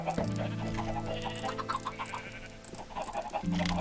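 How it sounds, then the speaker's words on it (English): Chicken clucking and squawking in Minecraft, several repeated clucks with a steady backing drone, close and clear, with no talk over them. "Where's my baby chicken?"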